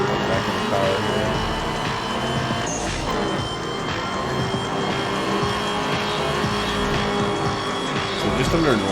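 A car drives in the Night Runners street-racing video game, its engine droning loud and steady with shifting pitch, brief tire noise and other in-game sounds layered beneath.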